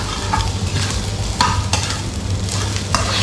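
Braised beef shank stir-fried in a pan with chili and salt: continuous loud sizzling with a few sharp scraping strokes of the spatula, close up and without talking.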